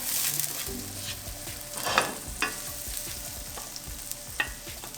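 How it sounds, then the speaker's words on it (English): Continuous close sizzling of food frying in a pan, with a few sharper pops and stirring scrapes, no voices. "You wanna hear that sizzle."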